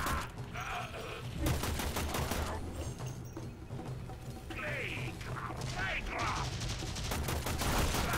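Shotgun blasts and heavy gunfire from the video game Warframe, dense and loud throughout, with a voice talking over the shooting.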